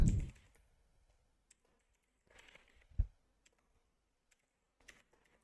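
Keystrokes on a computer keyboard as C++ code is typed into a terminal, a few sparse, quiet clicks scattered over several seconds with long pauses between them, nearby and alone.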